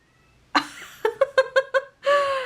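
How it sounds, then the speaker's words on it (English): A pet cat named Willow gives a string of short, close meows indoors. One cry is followed by a quick run of five chirpy calls and a longer final meow, with no talk over them. "I love her little meows"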